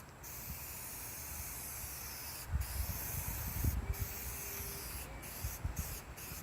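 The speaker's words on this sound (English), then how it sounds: "We're not spraying for coverage. We're just putting the tack coat down." A spray gun lays down a tack coat of gray paint on a shuttle bus being converted into an RV, producing a steady hiss throughout with a few brief breaks.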